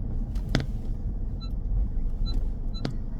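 Low, steady car engine and road rumble from inside a car pulling up on the left side during a driving lesson on a Huddersfield test route, with a few faint ticking indicator clicks and no talk.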